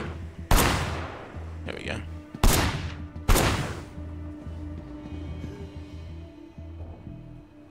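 Gunfire from the video game Sleeping Dogs rings out as three loud, sharp shots with decaying tails over a low game soundscape, with someone speaking briefly between them.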